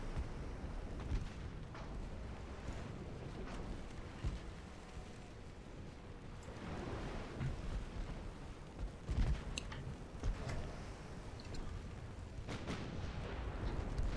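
Incoming naval shells striking a destroyer in Ultimate Admiral: Dreadnoughts, heard as a steady, roaring battle din with repeated low thuds and booms, some near and some distant, over wind and sea noise.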